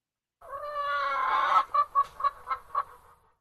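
A chicken clucks close and clear, opening with a drawn-out tonal squawk, then breaking into five short, rhythmic clucks that fade at the end, with no other sound around it.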